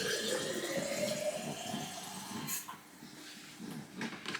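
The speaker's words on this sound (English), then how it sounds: "It also says to fill water up to the top of the label." Tap water pours into a cheese and bacon flavour instant noodle pot, a steady close-up rush that rises in pitch as the cup fills, then cuts off.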